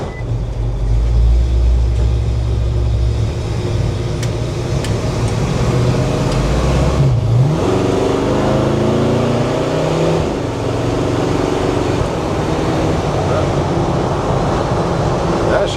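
A 1978 Ford Bronco engine runs steadily and loudly while the truck drives, with a deep continuous rumble and a brief change in pitch midway as it shifts or accelerates.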